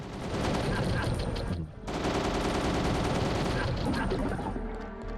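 A light machine gun fires in the video game Countdown Vampires: dense, loud, continuous bursts of rapid gunfire that break off for a moment and then resume, with voices talking over the shooting.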